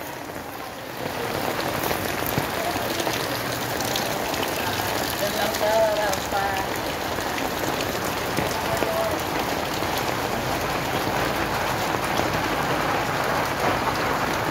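Steady rain falls in a dense, even hiss from start to finish, loud and close, with faint voices now and then beneath it.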